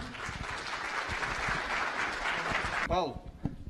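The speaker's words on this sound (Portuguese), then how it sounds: "Uma salva de palmas para o Paulo." An audience at a business talk claps in a steady, dense burst that cuts off sharply near the end, followed by a voice speaking.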